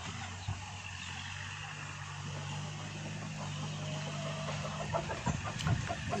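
Chickens cluck softly in the background over a constant low hum, with a few sharper calls near the end.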